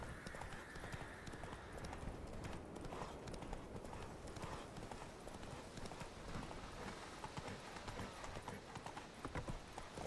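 Roach the horse gallops in The Witcher 3, hooves clip-clopping in a quick continuous rhythm, fairly faint beneath game ambience with a little talk.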